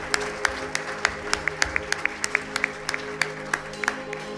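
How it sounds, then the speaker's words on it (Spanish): A church congregation claps in a steady, even rhythm during a service, with sharp claps at a moderate pace over a low hum of music or room sound. "Dale un fuerte aplauso al Señor."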